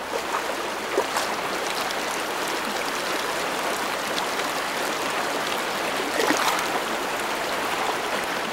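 Icy stream at the Ganges headwaters in the Himalayas, a continuous rushing, splashing flow of water, close and steady with no voices.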